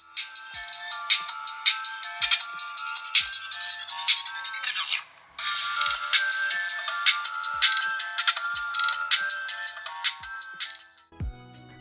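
A ringtone plays through the speaker of an Advan Q7A phone, a bright repeating electronic melody in quick regular pulses, briefly pausing midway, then resuming until a thump at the end.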